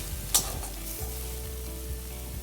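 Data shak greens frying in a pan with no water left, a steady soft sizzle with a few light clinks of stirring, close and alone without talk.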